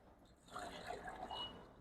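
Water is poured into a cooking pot over green Ponni rice for a Dindigul-style wedding chicken biryani, a soft close trickle and splash that swells midway and stays faint, with no talk.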